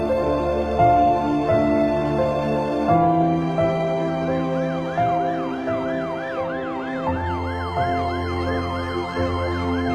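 An ambulance siren wails continuously and loudly, first in a long rising and falling tone, then in a quicker repeating warble over a low vehicle rumble.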